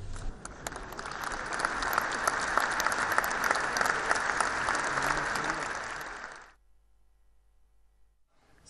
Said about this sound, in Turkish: izleyicinin ayakta alkışını aldı